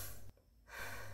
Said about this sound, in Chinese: 擤鼻涕